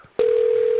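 A telephone emits a steady, loud electronic tone that begins abruptly after a brief quiet click and holds unchanged, as when a phone is picked up to dial 911.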